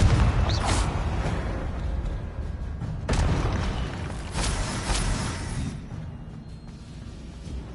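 A fire-blast spell cast during Hogwarts Legacy gameplay sets off several loud, booming explosive bursts spaced a second or two apart, each decaying into a rumbling tail against a busy game background.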